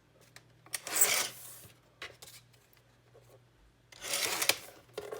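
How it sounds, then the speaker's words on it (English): A paper strip for a junk journal foldout book is trimmed with a rasping, scraping cut in two louder bursts, with faint shorter scratches and a low hum between them. "And then I'm going to trim this strip down to 2 3/4."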